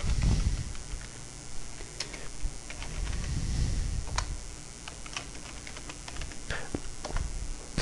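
Fingers tap out a letter on a computer keyboard in quick, irregular bursts of clicks, close and fairly soft against a quiet room, with no talking.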